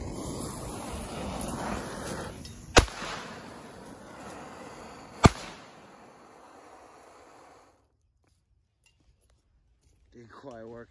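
A USA M2000 firecracker demonstrated outdoors gives two sharp, sudden cracks a few seconds apart over a dull background, then the noise fades to near silence with a faint sound at the end.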